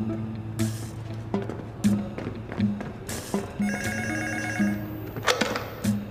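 A telephone bell rings in repeated bursts at a steady rhythm, fairly close, with light tapping and room noise in between.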